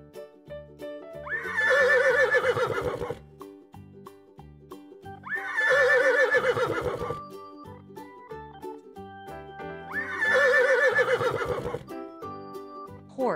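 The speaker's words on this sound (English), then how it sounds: "Next, horse." A horse whinnies three times, each loud, drawn-out neigh rising then trailing off, evenly spaced with short pauses between, alone with no talk.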